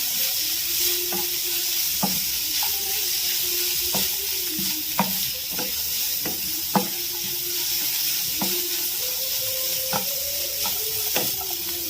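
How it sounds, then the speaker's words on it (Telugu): Cooked rice is stirred into a spiced mixture in a frying pan, giving a constant soft sizzle. Regular sharp spoon taps and scrapes against the pan recur every second or so, close up. "రైస్ వేసుకొని కలుపుకుందామండి."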